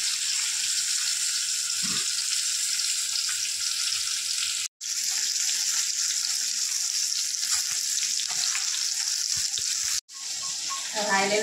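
Okra frying in hot oil tempered with asafoetida for a Marathi bhindi dish, a loud continuous close sizzle broken by two brief cuts, with a short voice near the start.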